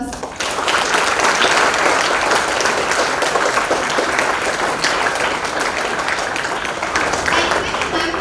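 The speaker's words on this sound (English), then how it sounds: "Let's welcome ma'am with a huge round of applause" A huge round of applause from a school audience welcoming a storyteller, dense sustained clapping that starts abruptly and continues loudly and evenly throughout.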